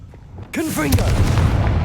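Confringo blast spell exploding in the video game Hogwarts Legacy, a sudden loud boom with rumbling crackle after a short quiet lead-in, while a voice speaks over the start.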